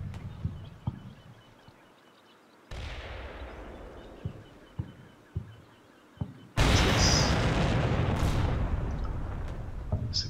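Tank explosions and gunfire from a Cold War battle video game with a Motor Rifle Battalion attack: scattered sharp booms and impacts over a low rumbling bed, with a louder dense roaring burst of fire and explosions in the final seconds.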